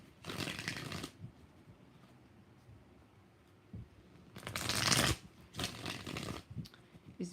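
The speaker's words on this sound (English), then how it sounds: "4 shuffles." Tarot cards shuffled by hand in several distinct bursts, a crisp riffling close up with quiet pauses between rounds.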